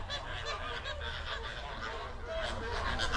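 A large flock of flamingos at a Kenyan soda lake such as Lake Magadi keeps up a dense, continuous honking chatter, many goose-like calls overlapping at moderate distance.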